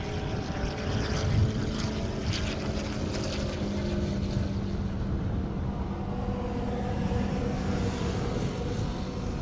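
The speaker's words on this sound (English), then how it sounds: "sounds like we're going to have a helicopter land out here momentarily." A helicopter coming in to land at an airstrip drag-racing event: a steady low engine drone with rotor-like thrum, constant and moderately loud throughout, like an aircraft hovering nearby.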